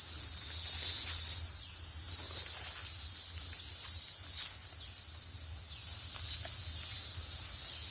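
Grasshoppers chirr with a continuous high-pitched buzzing drone, steady and fairly close, over quiet outdoor background.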